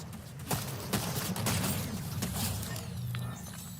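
Gunfire in Fortnite, a run of sharp close shots in an irregular burst, some spaced and some rapid, over a constant low game rumble.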